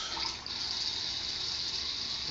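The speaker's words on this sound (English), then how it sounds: "Pour yourself a nice little glass." A drink pours steadily into a glass, a faint, continuous trickle of liquid heard up close with no talking.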